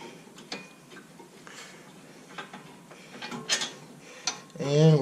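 Hand tools ratchet and clink as brake caliper bolts come off a Camaro, making irregular metallic ticks and short pawl clicks close by. A louder clatter comes near the end.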